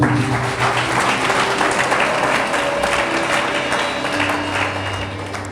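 A church congregation applauds in praise of the Lord, a loud, continuous wash of clapping from many hands that holds steady and eases off slightly toward the end.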